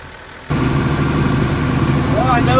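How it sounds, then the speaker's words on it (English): A loud 1979-era farm tractor engine starts up abruptly and keeps running in a steady, close, throbbing rumble during bean harvest work. "Well, I know this tractor's loud."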